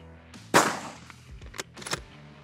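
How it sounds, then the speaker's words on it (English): A single loud rifle shot fired at a 1000 meter target, sharp and close with a decaying report, followed by fainter clicks and rustles of handling the rifle. "So we're ready to take the shot."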